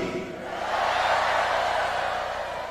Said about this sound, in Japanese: ブーイングに聞こえるぞ。